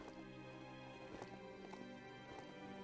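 A donkey trots along in the action game Biomutant, its hooves striking in a soft, regular clip-clop over a steady droning ambience, faint and fairly close.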